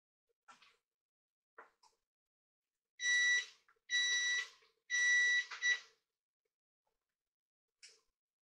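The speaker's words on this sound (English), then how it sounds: "now the buzzer went off, as you could probably heard from my last one" A kitchen timer buzzer goes off while broccoli cheddar cheese soup cooks: three loud electronic beeps in a row, each about half a second, in a quiet kitchen with faint clicks and handling noises around them.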